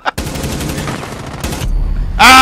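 Gunfire in the Rainbow Six video game: a rapid burst of shots rattles loudly for over a second and a half, then after a brief lull a sharp, louder blast closes the clip.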